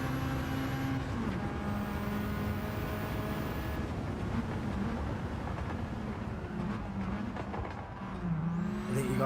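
Race cars in the video game Gran Turismo 7, at a Goodwood Festival event, hold a steady, loud engine drone with shifting whine and gear changes as they lap together, the pitch dipping and rising through corners.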